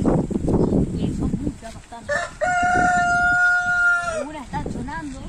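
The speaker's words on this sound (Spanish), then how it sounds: "Ahí vemos todas las gallinas." Hens in a henhouse cluck close by, and a rooster gives one clear, drawn-out crow partway through. A person talks over the clucking at the start and the end.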